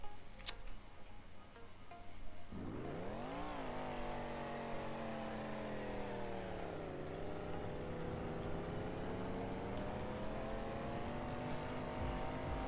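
A motorcycle engine in the BeamNG.drive video game starts up and revs, its harmonic whine rising sharply, dipping, then holding a steady droning pitch as it rides on, fairly quiet and with no talk.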